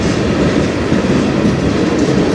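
A CN freight train rolls past close by on the Strathroy Subdivision, a loud, steady roar of wheels and cars with faint clickety-clack throughout and no pauses.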